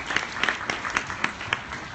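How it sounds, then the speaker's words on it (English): Audience at a talk on event technology giving a round of applause, a moderate patter of scattered claps with distinct individual hand strikes across the room. "Can we get a round of applause for all the people who contributed to this content?"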